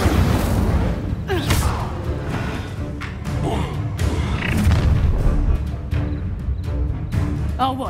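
Spell combat in Hogwarts Legacy, with an Incendio fire spell cast amid dense game music, booming thuds and bursts, loud and continuous with no voices.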